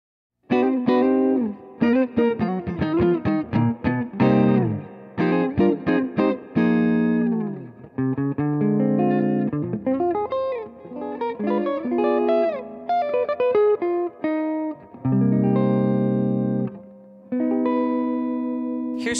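An electric guitar through a VOX tube amp plays a run of picked notes and sustained chords with a warm, round tone, treble cut and a touch of reverb, loud and up close.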